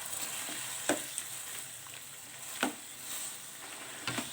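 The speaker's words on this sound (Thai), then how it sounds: "แล้วเราก็จะใส่ มะเขือเทศหั่นนะคะลงไปนะคะ นี่นะคะ เราก็คนคลุกเคล้าให้เข้ากันนะคะ" Sweet and sour chicken with minced pork and chopped tomato sizzling in a wok, a steady frying hiss broken by a few sharp scrapes of stirring, close and fairly quiet.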